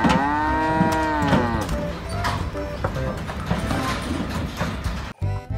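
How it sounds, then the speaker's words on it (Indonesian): A toy cow lets out a loud electronic moo with a wavering pitch that rises and falls, followed by busy clattering and rattling sounds that end abruptly. "Wow, ini ada hewan sapi."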